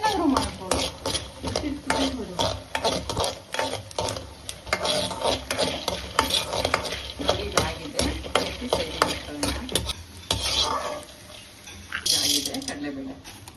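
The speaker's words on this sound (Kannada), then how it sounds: "ಒಂಚೂರು ಕೆಂಪು ಆದ್ಮೇಲೆ ಕಡಲೆಬೇಳೆ, ಉದ್ದಿನಬೇಳೆ ಹಾಕೋಣ." Chana dal and urad dal are stirred in hot oil for Nellikayi Chitranna, with quick scraping and clinking spoon strokes over a light sizzle while people talk throughout.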